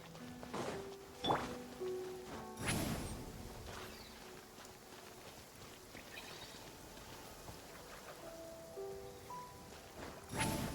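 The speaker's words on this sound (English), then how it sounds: "This heavy rain must be quite an inconvenience for you." Heavy rain in a video game: a steady rain hiss with soft patters and footsteps, under faint musical tones and low background sound.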